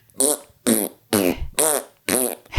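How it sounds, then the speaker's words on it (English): A series of five short, loud, buzzing fart-like bursts in quick rhythm, each separated by brief silence. "You farted."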